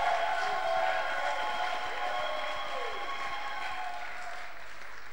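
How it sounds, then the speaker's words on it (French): A church congregation claps along, a fairly dense, steady patter of many hands with sustained tones ringing over it, gradually fading slightly toward the end. "Can you clap your hands as we honor this"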